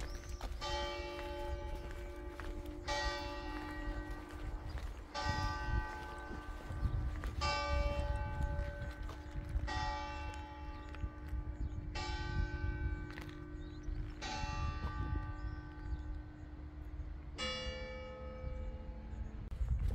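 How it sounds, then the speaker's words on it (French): Church bells in the Aosta Valley ring out in a series of clear, resonant strikes with long ringing tails, steady and fairly close, over a low outdoor rumble. "l'église qui nous accueille, comme souvent, par ses cloches"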